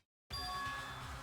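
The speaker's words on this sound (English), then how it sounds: "What you just heard was the body discovery announcement." Danganronpa body discovery announcement chime from the video game, a bright ringing tone with sustained bell-like overtones starting abruptly after silence and holding steady over a dense background.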